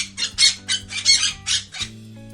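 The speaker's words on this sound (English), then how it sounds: "This is a parrot." A parrot gives a quick run of about seven harsh, close squawks in an uneven rhythm, heard alone.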